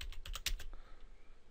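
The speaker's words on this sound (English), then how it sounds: "if we type in here and" Quick, close keystrokes on a computer keyboard as a job search query is typed, a brief burst of light rapid clicks that stops and fades into quiet.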